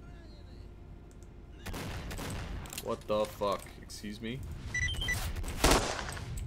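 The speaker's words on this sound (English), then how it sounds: "Let's go toward this gunfire." Gunfire in S.T.A.L.K.E.R. Shadow of Chernobyl, a mix of sharp shots and bursts at mid distance, starting after a quiet opening and continuing intermittently under someone speaking over it, with one louder crack near the end.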